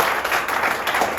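Brief burst of audience clapping for a boy at a business seminar, steady and moderately loud for about a second.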